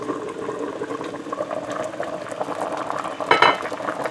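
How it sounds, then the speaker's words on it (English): A pot of metemgee, a Guyanese stew, bubbles steadily on a stove, a dense continuous simmering hiss with a brief louder bubbling surge near the end. "So this pot has been boiling here for about 20 minutes"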